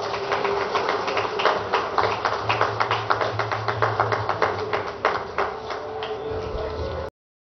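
Audience applause at an award presentation ceremony, dense rhythmic clapping from a crowd, steady and fairly close, sustained for about seven seconds before stopping abruptly.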